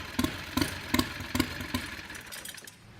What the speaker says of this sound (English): There is no reason a lawnmower engine should sound that good.